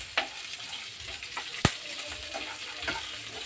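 Oil frying in a pan while cooking a Telugu-style nalleru stem chutney: a steady soft sizzle with scattered pops and one sharp splatter crackle near the middle.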